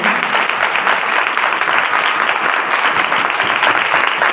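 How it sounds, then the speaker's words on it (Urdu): A church congregation claps loudly during a sermon, giving a vigorous round of applause: close, dense clapping from many hands, steady and unbroken throughout. "اس کے لیے ہم زوردار تالیاں بجائیں گے"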